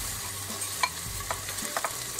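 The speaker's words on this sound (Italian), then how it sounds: "la nostra acqua bolle. Aggiungiamo semplicemente il riso." Rice tipped into a pot of boiling water with broccoli and a pinch of turmeric, a few light clicking spills and stirring scrapes over a low bubbling, close and alone.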